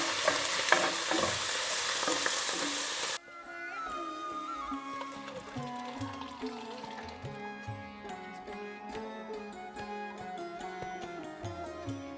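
Chana dal with garlic and coriander hits a hot pan in a loud, dense sizzle for about three seconds, then the frying fades beneath music for the rest of the clip.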